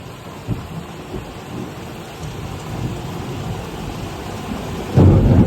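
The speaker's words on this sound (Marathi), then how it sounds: "एवढा तुफानी पाऊस होतोय" Heavy monsoon rain pours steadily in Mumbai at night as thunder rumbles low throughout, building into a louder crash near the end.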